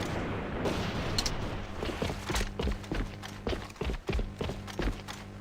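Gunshots ring out in the online shooter AVA, a series of sharp, irregular cracks in quick clusters over a rumbling game background, some rapid and close together.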